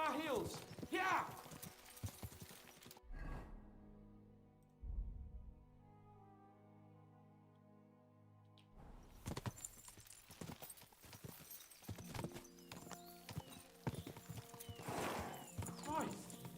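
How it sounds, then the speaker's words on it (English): Horse hooves gallop in the video game Kingdom Come: Deliverance II, a rapid clattering rhythm at the start and again after a quiet stretch, mixed with music, a whinny and people talking over it. "We should spur the horses on."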